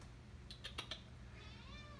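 A house cat gives a few short, faint meows close together near the start, followed by a higher chirping sound, all over a low background hum.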